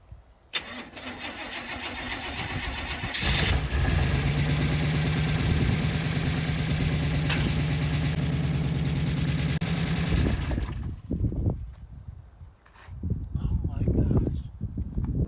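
A GMC C3500 truck with a faulty fuel pump cranks and runs roughly, a loud, close, ragged engine drone that holds steady for several seconds, then cuts out into uneven knocks and bangs.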